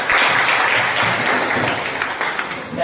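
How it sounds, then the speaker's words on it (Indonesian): Applause from a classroom group of students, a loud, continuous spatter of clapping that stays even throughout and tails off slightly at the end. "Berikan tepuk tangan."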